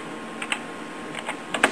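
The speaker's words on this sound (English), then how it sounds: "I'll type SAM hack," Keys clatter on a computer keyboard as a DOS command is typed while flashing an Xbox 360 drive, several short bursts of close, light clicks over a faint steady hum.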